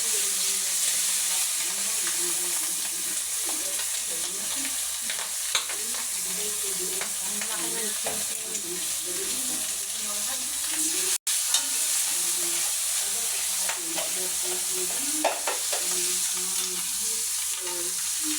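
Chicken frying in a pan gives a loud, continuous sizzle and hiss, steady for the whole stretch, with occasional faint clinks and stirring.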